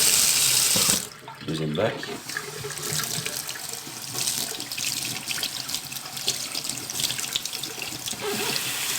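Cold tap water runs steadily into a sink, rinsing sprouted seeds prepared as canary food. The flow stays close and continuous after a brief pause at the start, and a voice speaks briefly over it.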